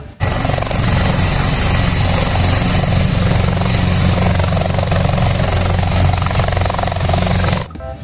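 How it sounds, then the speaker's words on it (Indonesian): A toy military helicopter gives a steady, loud whirring drone with rapid rotor chopping for several seconds, then cuts off abruptly. "Kalau yang ini ada helikopter tentara."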